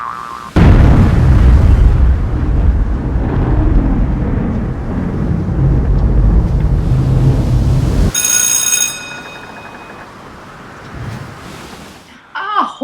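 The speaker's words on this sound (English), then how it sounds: "Fire the cannon!" A cannon blast fired aboard a playful ship-themed scene erupts suddenly and loudly, followed by a long rumbling roll, then a bright ringing burst and a short vocal squeal near the end.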